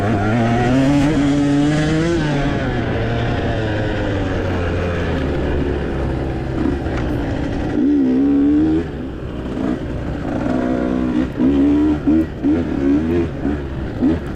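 A two-stroke dirt bike races off-road at Zars Ranch in Texas, its engine close and loud, rising and falling in pitch as the rider accelerates, shifts and backs off the throttle, with rough bursts and brief dips across the run.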